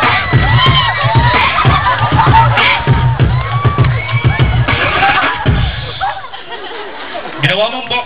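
Audience at a live comedy show in Bulacan cheering, whooping and clapping loudly in a sustained crowd roar with shouts, fading briefly before a fresh burst near the end.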